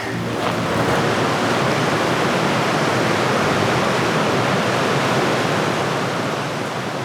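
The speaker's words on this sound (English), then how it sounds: "I can see the opposite side of the canyon, and I can hear the river." Steady, loud rushing water of the river at the bottom of the Grand Canyon, a continuous broadband roar with no voices.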